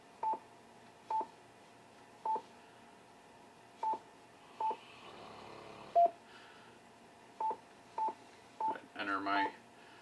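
DTMF keypad tones sound as an email address is entered for an APRS text message: a run of short, evenly spaced beeps, then a brief pause and a faster cluster of tones near the end, all fairly quiet.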